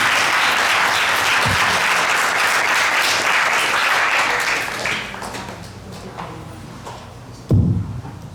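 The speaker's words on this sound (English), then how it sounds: "Big round of applause." A temple audience at ISKCON Brampton claps in a loud, dense round of applause that thins and fades after about five seconds, ending in a few scattered claps and a sharp thump near the end.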